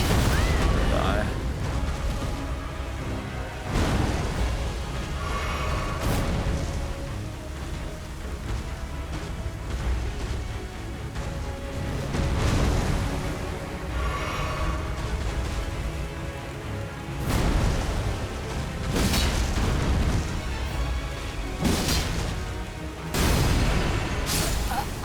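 Explosions in the video game Elden Ring: repeated deep booms and blasts recur every few seconds over a dense, rumbling game soundscape that runs throughout.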